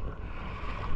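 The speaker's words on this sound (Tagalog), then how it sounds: "kung naririnig nyo sa background natin, medyo mahangin siya" Wind buffeting a microphone out on open water with waves slapping nearby, a steady rough low rush for about a second with no other sounds.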